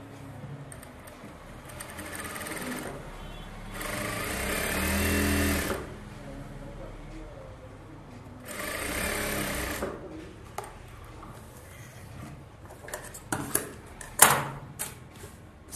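A sewing machine stitches a bridal Aari blouse in two loud, fast runs of about two seconds each, separated by quiet handling, followed by scattered clicks and knocks of fabric and machine parts.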